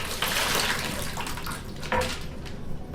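Water sloshes and splashes as a betta fish is poured from its container into a small smart aquarium tank, with two short bursts of close, bright splashing and no talk.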